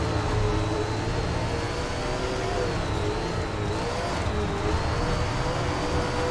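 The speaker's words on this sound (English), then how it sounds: "Hear me gas it up right there" Dirt late model race car engine in the SRX racing video game at Durango Park, a steady loud engine drone with a rising and falling whine as the throttle is worked through a corner, heard alone.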